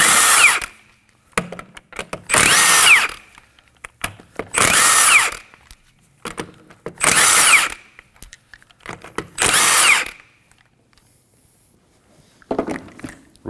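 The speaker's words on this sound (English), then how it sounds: "Using a 21mm socket, go ahead and remove the lug nuts." A power tool with a 21mm socket spinning off lug nuts on a rear wheel of a 2011-2016 Kia Optima, five loud whirring bursts of about a second each, separated by short pauses and close at hand.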